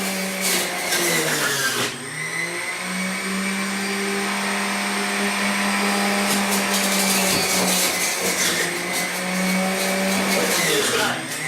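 A juicer whirs loudly and steadily as celery is fed through it, a sustained motor drone with a strained, grinding pitch that dips briefly near the start and again at the end, with a voice talking faintly over it.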